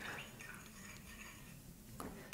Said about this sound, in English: Stirring the tea.